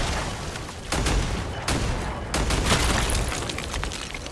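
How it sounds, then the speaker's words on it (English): A rock blows up in a Doom mod, loud booming blasts mixed with rapid gunfire bursts in a dense, repeated barrage, with some voice in the background. "the rock blowing up was noticeably louder than the gunfire"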